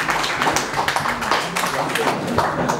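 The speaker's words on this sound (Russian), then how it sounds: "Аплодисменты нашему брату Мамеду." An audience applauding at a gathering honouring Lezgin champions, a dense, steady patter of claps throughout, with voices mixed in.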